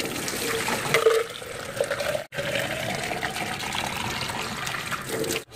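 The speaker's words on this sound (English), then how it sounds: "So, I'm going to give this a little quick rinse." Water runs and splashes inside a shaker bottle during a quick rinse, a steady close-up gush with one brief break partway through and no talking.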